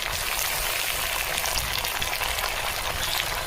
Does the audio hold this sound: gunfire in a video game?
no